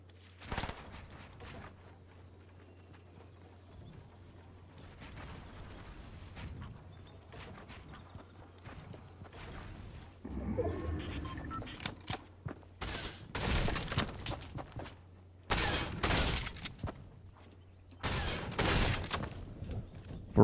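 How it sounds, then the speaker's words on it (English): Gunfire in the Fortnite video game, with scattered shots early and then loud sustained bursts of rapid fire in the second half, close and alone without talk. "I hear you shooting at me"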